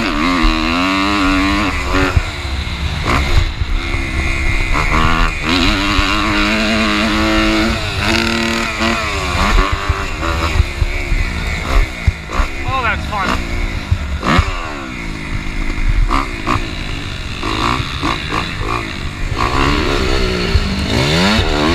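Dirt bike engine revving and shifting throughout a ride on a motocross track at an MX park, loud and continuous with rising and falling pitch sweeps as the rider accelerates and backs off.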